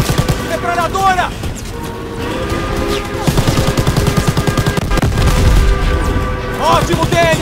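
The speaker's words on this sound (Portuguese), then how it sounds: "Metralhadora!" Automatic gunfire from a World War II shooter game, Call of Duty WWII, crackles in rapid bursts throughout, mixed with explosions, music and shouting voices in a dense, loud battle scene.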